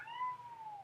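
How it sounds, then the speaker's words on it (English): A cat gives one drawn-out meow in the background, faint and somewhat distant, rising slightly then sliding down over almost a second with no speech over it. "I apologize for my cat in the background."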